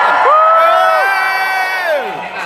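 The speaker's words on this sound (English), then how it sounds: "A room full of people screaming and cheering." A convention panel audience in London screams and cheers loudly, with high whooping voices rising and falling over the crowd noise.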